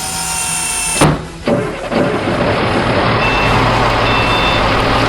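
A truck reverses with a steady, loud electronic beep pattern that carries over heavy engine rumble and broadband noise, after a brief drop-out near the one-second mark.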